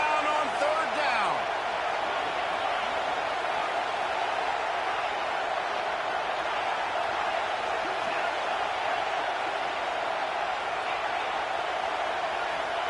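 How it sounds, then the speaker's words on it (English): Steady roar of a football stadium crowd at an LSU versus Florida Gators game, a dense wash of noise held at constant loudness while a commentator talks over it. "This crowd on hand trying to make sure the Gators don't back down on third down"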